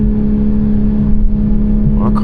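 A car engine holds a steady, loud drone at close range, with a short burst of speech near the end.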